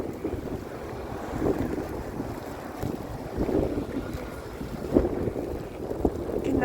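Strong wind gusting outdoors in Scarborough, Toronto, after a snowstorm, a steady loud rush on the microphone with stronger buffeting swells every second or so and no talk.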